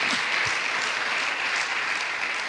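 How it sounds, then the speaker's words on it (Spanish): A church congregation claps together in sustained, dense applause, steady and fairly loud for the whole stretch with no talking over it. "Dar un aplauso a Cristo el Señor"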